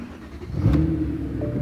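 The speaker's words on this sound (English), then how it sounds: "The reason people buy these things is the engine." A car engine with gutted original mufflers rumbles loudly up close, rising into a brief throaty rev before settling back to a rough idle.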